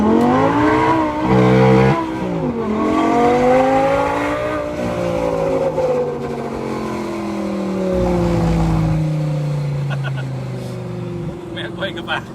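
Audi R8 V10 accelerating hard on a drive, its engine note sweeping up through repeated gear pulls, loud and close, with a deep low-end burst near the end and people talking over it.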